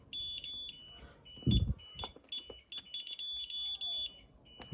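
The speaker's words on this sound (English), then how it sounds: "That UPS up there won't, that only beeps so often." Repeated high electronic beeps from a UPS alarm, sounding in short pulses and longer tones, with a dull thump and faint background noise.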